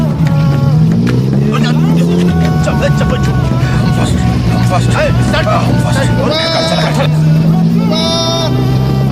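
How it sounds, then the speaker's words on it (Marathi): A car engine starts and revs in bursts, its rising whine repeating near the start and again toward the end, heard close up under steady background voices and chatter. "गाड़ी स्टार्ट कर"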